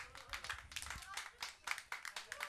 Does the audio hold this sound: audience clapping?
yes